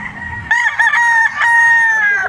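An 18-month-old, blue-legged Lemon 84 bloodline rooster gives one loud, close, sustained crow lasting nearly two seconds after a brief moment of low background noise.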